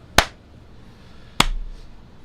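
Two sharp, isolated hand claps to mark the start of a take, spaced about a second apart, close and crisp against a quiet room.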